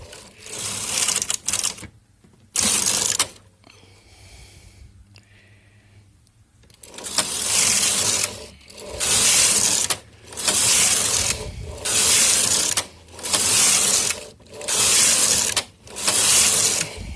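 A Singer 350 knitting machine carriage knits Fair Isle with a slubby cotton contrast yarn, making loud rasping sweeps that repeat in a steady rhythm of about seven passes, with a quiet gap near the start.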